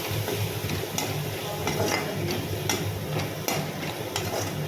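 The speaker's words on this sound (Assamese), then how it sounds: "জিৰা মিট মছলা ধনিয়া গুড়া এইখিনি দি পেলাই মই লৰাই আছোঁ" Cumin, meat masala and coriander powder fry in a pan while being stirred, giving a continuous close sizzle broken by regular scraping strokes of a spoon against the metal.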